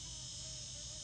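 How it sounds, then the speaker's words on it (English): Thin, steady insect whine of a mosquito hovering close, continuous and fairly faint, with a low background hum beneath it. "Where is this mosquito?"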